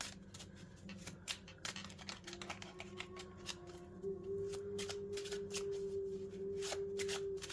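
Tarot cards shuffled by hand, a quick close series of crisp card flicks and riffles over a steady low hum that rises slightly toward the end, with no talk.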